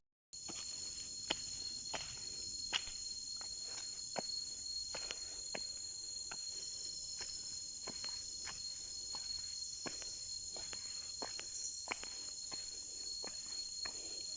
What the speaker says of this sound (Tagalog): Tunog ng mga kuliglig.